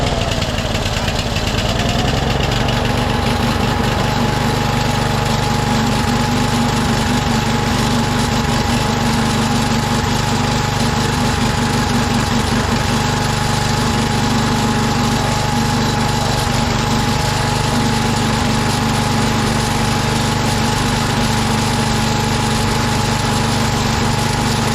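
Engine of a 1991 DR Field and Brush Mower running steadily after the carburetor is refitted, a continuous loud buzzing drone that picks up slightly in the first seconds and then holds an even pitch, with no talking.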